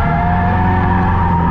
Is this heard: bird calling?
no